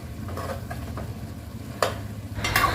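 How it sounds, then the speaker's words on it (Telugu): Chicken pieces frying for dum biryani are turned in the pan, giving a steady sizzle under a low rumble with a couple of sharp scraping clinks of the utensil, close and alone. "అలా చికెన్ ముక్కల్ని తిప్పుకునేటప్పుడు ఆ ముక్కలు అనేది చితికిపోకుండా చూసుకోవాలండి."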